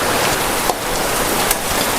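Steady rain falls and leaks through a roof into the house, a dense, even hiss that runs throughout with a couple of brief sharper drips standing out, fairly loud and with no one speaking.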